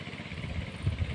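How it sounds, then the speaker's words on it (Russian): A small mini tractor engine runs steadily nearby in a remote taiga setting, with a low, uneven chugging rumble and a few louder knocks, no talking. "Мини-тракторочек."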